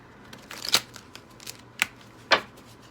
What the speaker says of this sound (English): let me pull some of the sultry cards